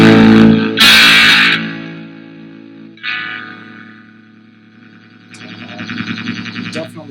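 Electric guitar through a Pine-Box Customs Crooked Teeth fuzz pedal with the guitar volume rolled down, giving a grittier overdriven tone: a few loud strummed chords, sustained ringing, then a quieter stuttering passage.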